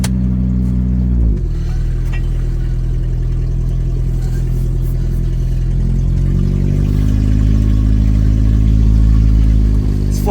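A 1986 Toyota Tercel 4wd wagon engine runs loud and close, a steady low drone that drops briefly, then climbs in pitch as the car pulls away and keeps driving.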